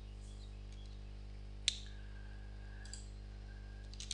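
Computer mouse clicks while setting up an app in a web browser, a few quiet, sharp isolated clicks over a low steady hum.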